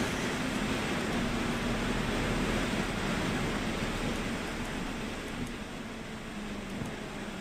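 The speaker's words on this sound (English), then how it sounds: "Listen to the raindrops." Rain falling on a car parked on pit road in the racing game iRacing, a steady broadband hiss of raindrops with a faint low engine-like hum beneath, continuous and even throughout.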